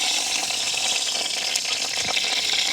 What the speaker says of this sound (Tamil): சட்டி வந்து சூடாகிட்டுது, தாளிக்கிறதுக்காக கொஞ்சமாக தேங்காய் எண்ணெய் விடுவேன்.